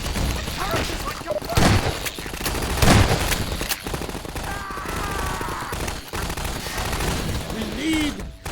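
In the Half-Life 2 video game, a turret keeps firing in a dense, continuous rattle of rapid gunfire. The shots stay loud and unbroken throughout, mixed with other game effects.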